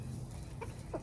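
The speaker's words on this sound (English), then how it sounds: "2 chickens who have decided that this is their new chicken coop" Two chickens roosting in a goat barn with baby goats, giving two short, soft clucks in quick succession against a quiet, low barn hum.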